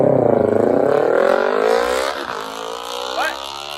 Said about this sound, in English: You might hear and see this motorcycle coming. This guy is really zooming.